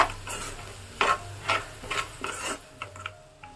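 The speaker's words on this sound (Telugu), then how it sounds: "దీన్ని కూడా ఒకసారి మొత్తం కలిసేలాగా కలుపుకుందాము" Moong dal with turmeric and salt stirred in a pan for methi moong dal fry: a handful of distinct spoon scrapes and taps against the metal over a soft steady sizzle, close and without voices.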